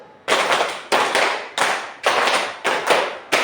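A group claps a rhythmic clap pattern in unison, six sharp, loud bursts falling at a steady, evenly spaced beat, each ending with a short decay before the next.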